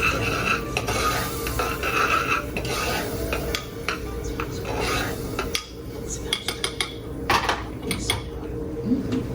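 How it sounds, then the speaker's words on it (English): A spoon stirring sliced scallions into a just-boiled sauce in a pot, with scraping and metallic clinks against the pan, close and fairly loud, ending in scattered taps. "And then I'm just gonna add our sliced scallions."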